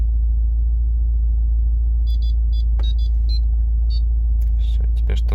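A Subaru Forester SH's custom GameBoy-style alert melody from a VDC-off module, a short series of bright electronic beeps over a loud, steady idling engine rumble, ending with a few clicks.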